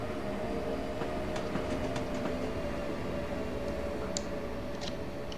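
A train in Train Simulator 2014 rolls over a track switch, with steady running rumble and a few faint clicks and clacks of wheels crossing the points, continuous and mid-distance with no voices.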